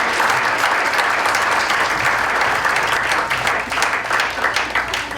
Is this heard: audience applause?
yes